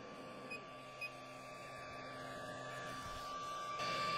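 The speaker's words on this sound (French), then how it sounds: "c'est les deux ventilateurs qui se trouvent donc à l'arrière de la machine" A Creality CR-200B 3D printer's two rear enclosure ventilation fans give a steady whirring hum with a faint high whine, constant and unbroken, with two brief soft beeps near the start.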